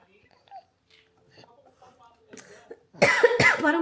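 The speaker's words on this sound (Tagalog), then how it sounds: "Parang pumalik naman yung ubo ko eh." A person coughs twice in quick succession, close and fairly loud, after a stretch of quiet background sounds and faint talk.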